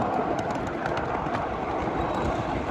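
A ride aboard a miniature freight train at a large live-steam railroad park gives a steady, close rumble of small wheels rolling on rails, continuous and alone throughout, with faint birds in the background.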